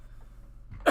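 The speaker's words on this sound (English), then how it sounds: "Let me cough away from the mic." A man coughs once, a short, sharp burst near the end that comes after a quiet, low room hum.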